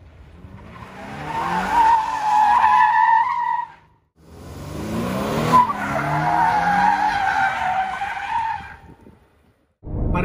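2020 Toyota 86 Hakone edition doing donuts, tires squealing loudly in two long sustained skids separated by a brief pause, with a short burst starting again at the end.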